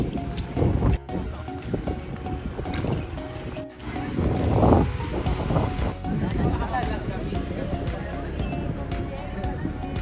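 Steady wind buffeting the microphone blends with the rumble and mechanical churn of a boat on open water near Mindoro, continuous throughout, while people talk nearby.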